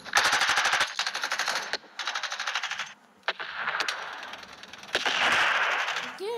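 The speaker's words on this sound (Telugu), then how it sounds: "ఇది ఎలా ఉంటుందంటే ఒక మిషన్ గన్ లాగా ఉంటుంది." Rapid machine-gun bursts fire in the mobile game Urban Heat, several loud close rattling volleys separated by short pauses, with a brief spoken word mixed in.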